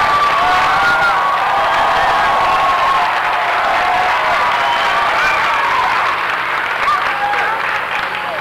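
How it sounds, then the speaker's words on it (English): A loud school audience of children and adults applauds a teacher at an elementary Winter Olympics event, steady dense clapping mixed with cheering, whoops and children's shouts throughout. "Let's give her a wonderful round of applause."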